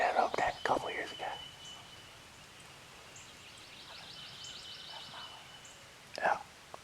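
A few distant gobbles from wild Eastern turkeys at roost ring out from afar in South Carolina, with soft outdoor ambience and faint rustling between them.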